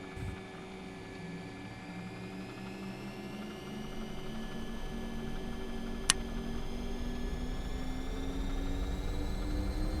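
MD-80 jet engines spooling at takeoff power in the X-Plane 10 flight simulator, a steady broadband roar with whining tones rising slowly, one sharp click partway through, continuous with no talk.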